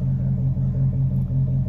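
Pickup truck with a Flowmaster Series 10 muffler idling, its exhaust giving a steady, deep low rumble with a gentle pulsing throb, close and continuous with no talking.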